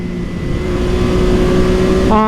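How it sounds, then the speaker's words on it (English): A 2020 Yamaha MT-09 triple-cylinder motorcycle engine roars steadily at speed, a loud, close, continuous drone. Its pitch shifts near the end as the revs change. "Just listen to that triple cylinder engine."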